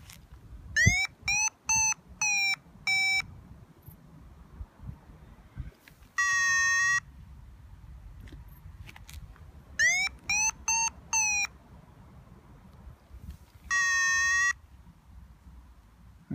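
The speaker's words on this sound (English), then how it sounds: "I've turned the buzzer off on this, so it's just the Vario." A Flymaster B1 Nav paragliding variometer, with its buzzer switched off, sounds bursts of rapid rising beeps alternating with longer steady tones, clear and close against a quiet background.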